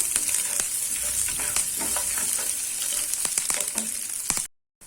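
About fifteen finely chopped garlic cloves fry in hot oil with a loud, dense, continuous sizzle, crackling pops and stirring clicks throughout, then an abrupt cut near the end.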